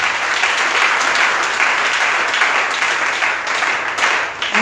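Church congregation applauding together, a dense continuous wash of many hands clapping, loud and fairly close, swelling and easing slightly over a few seconds.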